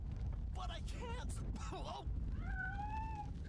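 A cat meows inside the video game RoboCop: Rogue City during a fire scene, with several short, clear meows followed by a longer drawn-out cry over a low rumbling background.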